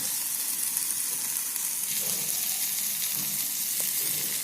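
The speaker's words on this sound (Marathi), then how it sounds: "आपण तीन ते चार मिनटासाठी ह्याला असंच कमी गॅसवरती शिजू द्यायचं आहे" Spicy tomato chutney cooks in a pan on a low gas flame, giving a soft, steady sizzle and bubbling hiss throughout, close by and uninterrupted.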